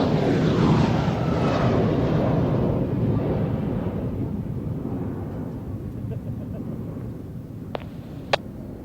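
A civil aircraft flying overhead, a loud broad engine roar that slowly fades as it passes, with a couple of sharp clicks near the end.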